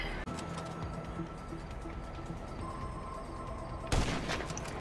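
Gunfire from a sniper rifle in GTA V: a steady muddle of game noise, then one sharp, loud shot bursts out near the end and rings on briefly.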